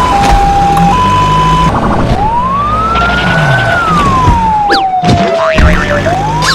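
A wailing ambulance siren sweeps up and down in pitch, loud and continuous over steady road rumble, with a brief boing-like effect near the end, in an animated drama.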